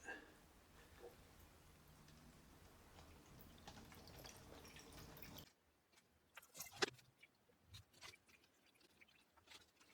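Peach melomel poured through muslin cloth and a funnel into a beaker, a steady liquid trickle for about five seconds that stops abruptly, followed by a few faint drips and small handling sounds.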